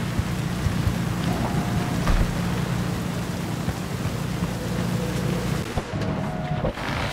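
Steady rain falls in the Cyberpunk 2077 video game, a dense, even hiss with low rumbling underneath and a few faint tonal blips, continuous throughout with no talking.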